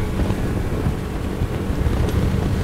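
A Zodiac Pro Open 650 boat powered by twin 70 HP Yamaha four-stroke outboards runs at full throttle, giving a steady, close, low engine roar mixed with heavy wind buffeting on the microphone, with no talking.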